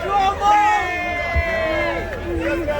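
A big political rally crowd in New York fills the air with dense chatter and cheering, several voices rising above the steady murmur of a large outdoor gathering.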